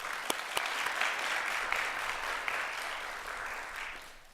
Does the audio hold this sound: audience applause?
yes